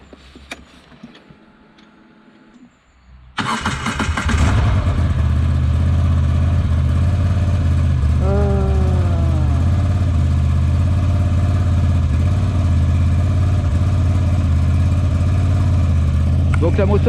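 A 2024 Moto Guzzi V85 TT motorcycle starts after a few quiet seconds, then settles into a loud, steady idle with a deep rhythmic throb, close to the microphone.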